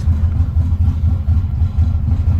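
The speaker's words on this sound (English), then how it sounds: "At least it's idling." A Nissan Z31 drift-build car engine idles steadily at close range, a low, even rumble with a faint rhythmic pulse and no voices over it.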